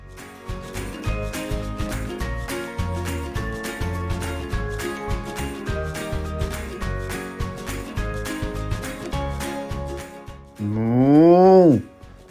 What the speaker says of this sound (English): Meet the Highland cow, a truly iconic Scottish creature with her long shaggy coats and impressive horns.